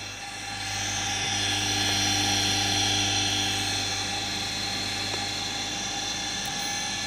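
A small 230-volt three-speed induction motor runs at its middle speed, a steady whirring hum with a faint high whine, rising in the first second and holding level, with no talking.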